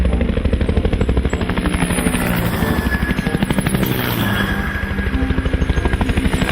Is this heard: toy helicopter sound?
yes